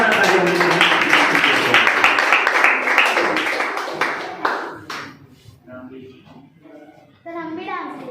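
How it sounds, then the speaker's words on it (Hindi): Loud clapping from a school audience at an Independence Day event in a Balrampur academy, with a voice over the first few seconds, then the applause fades into scattered claps and chatter. "जोरदार तालियां बजाएं।"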